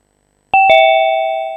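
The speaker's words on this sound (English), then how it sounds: "We heard ding dong" Two-tone electronic doorbell chime, a clear ding followed by a sustained dong, loud and close with a long ringing decay in an otherwise silent room.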